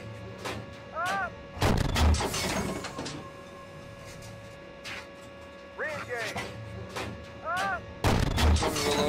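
Tank cannon fire in the Steel Beasts Pro simulator with M60A3 and M1A1/M1A2 tanks on a range: several heavy booming blasts at intervals, with a voice giving fire commands over the engine rumble between shots.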